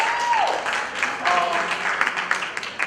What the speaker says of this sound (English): Let's give him a great round of applause.